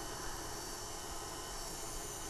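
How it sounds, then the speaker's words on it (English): A KitchenAid stand mixer runs while kneading honey challah dough, giving off a steady, even hum close by with no break. "kitchen aids don't whisper. But they do have a hum."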